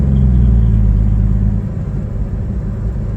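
A 1956 Chevy 210 on its first drive in 25 years, its engine a loud, close, steady low rumble that drops in pitch and eases partway through as the gear changes down to third.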